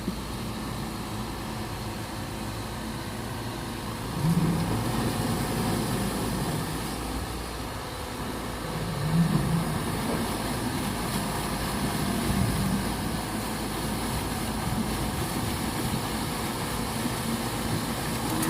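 A steady engine drone with a churning low rumble runs throughout, swelling slightly at moments, like a propeller-driven boat motor heard up close.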